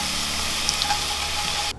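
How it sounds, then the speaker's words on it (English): Craft beer poured into a hot pan after browning beef gives a steady, close hissing sizzle with faint bubbling pops, cutting off abruptly at the end. "we're going to deglaze with the lovely craft beer"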